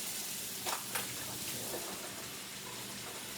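Sliced mushrooms tipped into a hot pan give a soft, steady sizzle and crackle with a couple of brief louder pops early on, faint and continuous without any talking.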